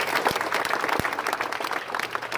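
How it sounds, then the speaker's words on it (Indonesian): A crowd at a pencak silat community gathering in Jember claps in a dense patter, with a few sharper individual claps standing out. "Tepuk tangan."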